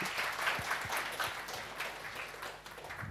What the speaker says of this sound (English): please, a round of applause for Stefan